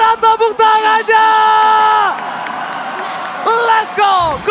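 A large arena crowd at a Mobile Legends esports grand final between ONIC and Geek Fam roars and whoops in sustained bursts, loud and close, with an announcer's voice sounding over the cheering.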